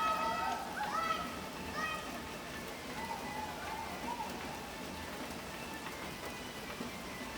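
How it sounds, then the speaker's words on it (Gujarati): Steady rain falls on surfaces around a home near midnight, an even hiss with a faint patter. Children's voices and talk drift in early, over a constant wash of rain. "વાગ્યા છે 12:03 અને વરસાદ ધીમો ફાસ્ટ ચાલુ રહે છે."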